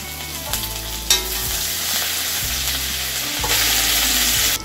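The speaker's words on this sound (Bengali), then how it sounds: "সবগুলো আমি একসাথে দিয়ে ভালো করে ভেজে নেব" Green chillies, bay leaf, whole cumin and chopped ginger frying in hot oil for a village-style dish, a loud close sizzle with sudden bursts and stirring, continuous and without talk.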